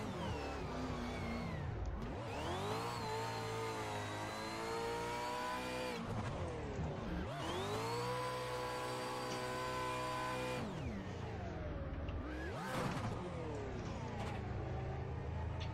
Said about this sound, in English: I just love how this car sounds because it sounds like it has a sequential when you put it in gear